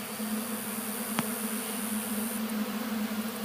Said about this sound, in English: there's bees everywhere. And they're just eating, that's all they're doing.